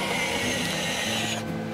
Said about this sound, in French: on a le volant qui s'efface entièrement dans la planche de bord